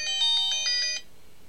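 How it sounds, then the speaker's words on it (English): Alarm tone from a U8 smartwatch: a bright electronic chime pulsing in about six quick repeated beeps for one second, then cutting off to silence. "Then you've got alarm tone."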